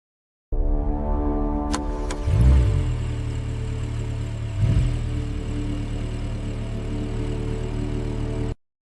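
A car engine turns over and settles into a steady idle, with a couple of brief revs rising above the low, continuous hum.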